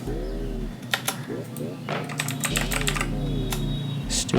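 Rapid clicks of a computer keyboard come in short bursts while someone writes HTML, CSS and JavaScript code, set against a low steady hum with faint voice-like tones.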